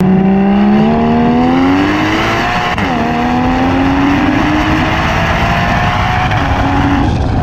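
A loud sports car engine revs and roars continuously, its exhaust note rising in pitch as it accelerates.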